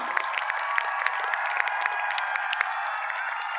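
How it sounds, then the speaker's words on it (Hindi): A large crowd of parents in a packed pavilion claps steadily, with dense, sustained applause that stays even throughout. "जोरदार तालियां।"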